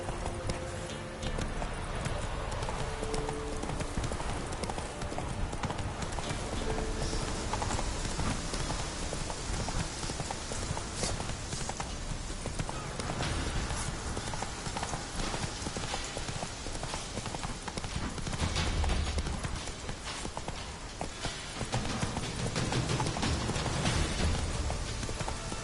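Roach the horse galloping in The Witcher 3: Wild Hunt, a rapid continuous clip-clop of hooves mixed with dense rain-like noise, loud and steady throughout.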